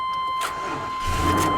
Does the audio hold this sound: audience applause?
no